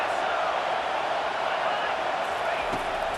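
A home crowd at a college football game between Ohio State and Rutgers roars steadily as the defense faces third down, a dense, continuous wash of cheering with no break.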